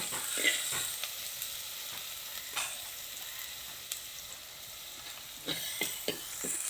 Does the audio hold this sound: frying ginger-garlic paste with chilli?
yes